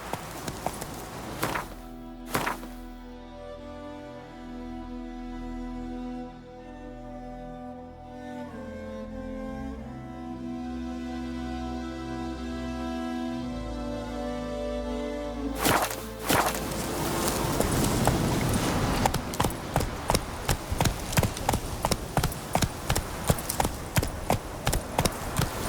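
Hooves of the horse Roach in The Witcher video game, clip-clopping in a quick, steady gait that grows louder toward the end, after a stretch of sustained tonal game music.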